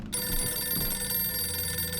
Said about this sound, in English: A phone ringing is a sound we hear daily